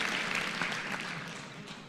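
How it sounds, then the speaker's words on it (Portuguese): Audience applause at a motivational talk, a soft, fairly distant spread of many hands clapping steadily and easing slightly toward the end. "Uma salva de palmas para ele."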